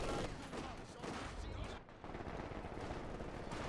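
Sustained MG-42 machine gun fire in Company of Heroes 2, a dense rattling stream of bursts mixed with other battle noise, running steadily under a commentator's voice.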